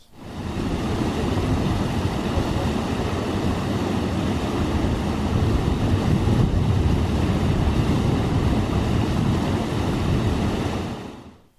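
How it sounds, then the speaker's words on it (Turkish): Water gushes at Gölevi lake in Datça, Turkey, as a loud, continuous broadband roar that holds steady for about eleven seconds with no voices. "buraya gelip gürül gürül akan suları izlemek"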